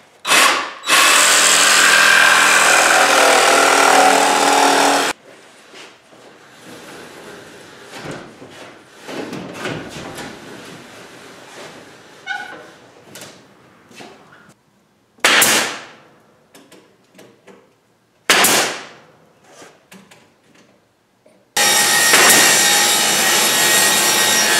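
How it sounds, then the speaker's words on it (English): DeWalt 20-volt max cordless jigsaw cutting wood while building a storage cabinet, with several loud bursts of rapid sawing separated by quieter handling and scraping sounds, no talking. "Cutting it out using my new DeWalt 20-volt max jigsaw."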